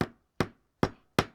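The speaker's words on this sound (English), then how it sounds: "you're going to start by lightly tapping the top of the nail" A hammer lightly taps a nail into a scrap piece of wood, four evenly spaced, sharp, close knocks with quick decays.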